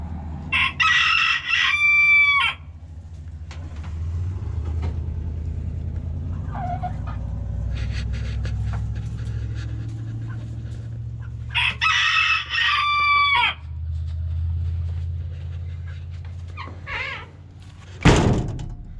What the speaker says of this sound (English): He sure is proud of himself. Over there crowing.